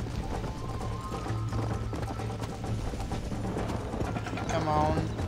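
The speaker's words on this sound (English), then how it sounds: "I feel very confident in this horse race." Hoofbeats of a horse galloping in a race in the video game Red Dead Redemption, a steady clip-clop that runs throughout under a continuous music bed, with a brief whinny-like sound near the end.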